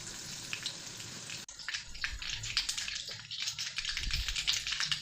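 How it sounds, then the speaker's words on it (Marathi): Cumin and mustard seeds hit two ladles of hot oil for a dal tempering, starting a steady, close crackling sizzle with sputtering pops that holds on without any voices. "डाळीला तडका देते. तेल 2 पळी घेतलं, त्यामध्ये जिरं, मोहरी,"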